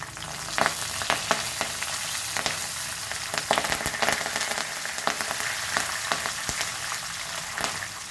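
Green chilies and curry leaves fry in hot oil for lemon rice, giving a steady crackling sizzle with frequent sharp pops and spits close by, and no talking.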